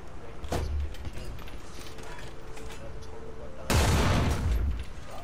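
Sniper rifle gunfire in the video game War Thunder, with a faint early report and a loud sharp shot later echoing briefly over steady game background noise.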